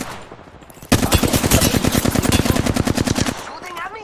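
Rapid automatic gunfire in Apex Legends, played as Newcastle, rattles off in a loud sustained burst of evenly spaced shots for about two and a half seconds before cutting out.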